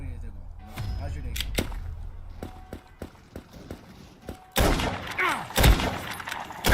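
Sniper rifle shots in a first-person shooter game: several sharp, separate cracks spaced through the opening seconds, then a louder, busier burst of game action near the end.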